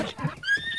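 A horse neighs in the video game Breath of the Wild, a short, bright whinny that rises and holds for under a second, loud and close.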